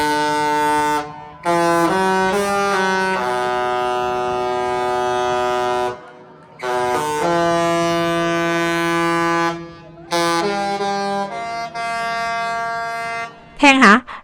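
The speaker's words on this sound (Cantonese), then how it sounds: "連開船嘅鳴笛聲都咁好聽㗎喎。" The Royal Princess cruise ship sounds its horn at departure in three long, sustained, musical blasts with brief gaps between them. The tone is rich and resonant, and a short higher warble comes at the very end.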